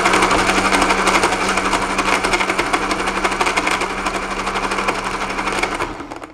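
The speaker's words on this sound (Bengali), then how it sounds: "আমি থেমে থেমে ভালোভাবে ব্লেন্ড করে নিচ্ছি।" A kitchen blender whirs loudly and steadily as it blends dates and yogurt into lassi, the motor noise holding even for about six seconds before cutting off abruptly at the end.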